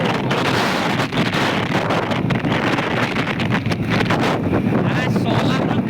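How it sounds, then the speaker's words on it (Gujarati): Strong wind buffets the microphone beside a roadside field of solar panels, a loud, continuous roar and rumble with no letup, and a voice speaks faintly beneath it. "અને પવન પણ બહુ છે મિત્રો."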